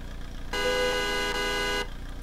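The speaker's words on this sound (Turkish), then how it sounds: "Kornası bildiğimiz standart Skoda kornası." A single sustained horn honk from an Iveco van in Euro Truck Simulator 2, sounding like a standard Skoda horn, bright and steady for over a second, between quiet stretches of low engine hum.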